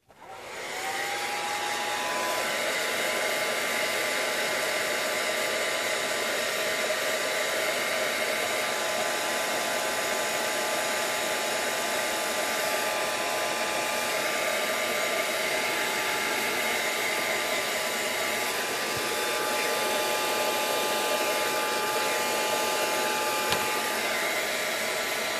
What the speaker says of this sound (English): let me first get some drying on this.